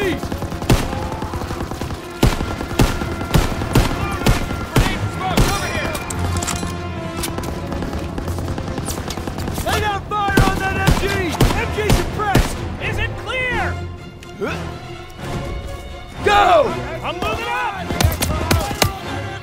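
Dense World War II battle gunfire from Call of Duty WWII at Hill 493, with rapid machine-gun bursts and single rifle shots crackling nonstop under shouted soldier voices and music.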